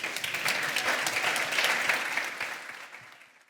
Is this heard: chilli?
no